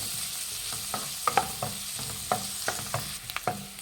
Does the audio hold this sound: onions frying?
yes